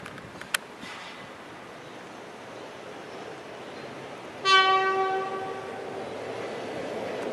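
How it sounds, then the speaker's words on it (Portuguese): A locomotive horn, a reused series 1600 train horn, sounds at a station near Lapa, one loud sustained blast over the steady rumble of a passing train, with a short sharp click near the start. "essa buzina dessa locomotiva é a buzina de um trem da série 1600"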